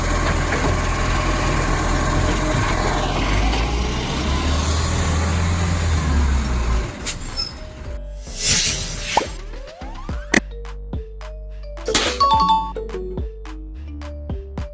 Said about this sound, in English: This is a recycling collection truck built with separate compartments to keep paper, plastic, glass, and metal sorted for proper processing